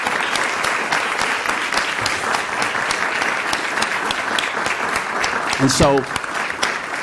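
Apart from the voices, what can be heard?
applause for youth council members at council meeting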